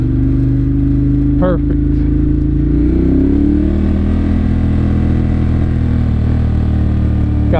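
A 2014 Ducati Monster 1200 S engine runs loud and close with a steady droning rumble whose pitch climbs briefly and then settles. A voice speaks a word over it.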